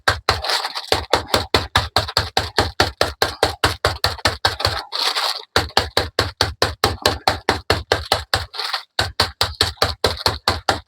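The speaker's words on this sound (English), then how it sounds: "I just use my rolling pin and I just smash up the biscuits" Biscuits smashed inside their packet with a rolling pin, a long run of fast, regular crunching thuds with two brief pauses, close and loud in a home kitchen.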